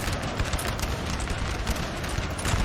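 Dense musket volley fire from massed infantry in the Napoleon Total War game, a continuous crackling barrage of overlapping shots at close range with no pauses.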